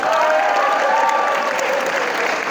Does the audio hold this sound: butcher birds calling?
no